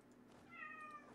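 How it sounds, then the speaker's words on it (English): A cat gives a single short meow, quiet and close-ish, against a faint steady background hum. "Kitty, please don't scream."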